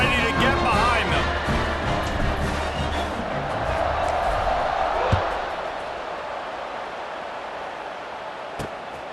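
A stadium crowd in the EA Sports College Football video game roars steadily before a kickoff, a broad, loud wash of cheering that holds for several seconds, with a voice faintly present beneath it.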